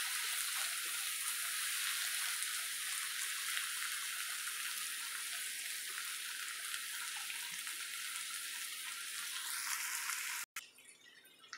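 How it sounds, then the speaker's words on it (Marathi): Warm water is poured into an onion and tomato mixture in a pan, making a steady hissing rush that carries on for several seconds before it abruptly stops. "कोमट पाणी घालते मी यात."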